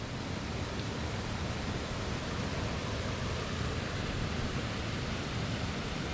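Water running over a small pond overflow by a little control shed in Scotland, a steady continuous rush that stays even and close throughout, with no voices.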